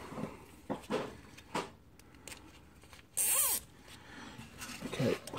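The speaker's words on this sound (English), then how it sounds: "And the zip tie needs to go around." A zip tie tightened on a steering rack boot of a Mitsubishi RVR in a garage: one quick, close ratcheting zip amid soft handling clicks and rustling.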